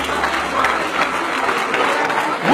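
A crowd at a political gathering claps together in a dense, steady burst of applause that stays fairly loud across the moment, with no individual voices standing out.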